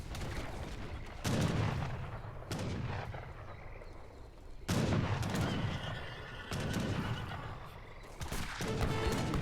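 Battle sounds in Age of Empires III with cuirassier cavalry and culverins: booming gunfire and cannon blasts in repeated waves, horses neighing and hooves clattering, dense and loud throughout.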